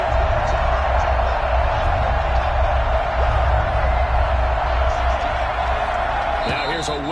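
A Madden video game stadium crowd gives a loud, constant roar, a dense wash of cheering that barely changes throughout and fades slightly at the very end.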